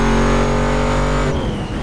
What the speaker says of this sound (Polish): pojedźmy sobie drift w kanionie